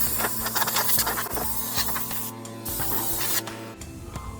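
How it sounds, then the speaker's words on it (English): A compressed air nozzle blows spider webs off a car's underside, giving a steady loud hiss with sputtering pulses and a mechanical hum beneath it, with no talking. "I'm gonna start cleaning it with this, my air pressure."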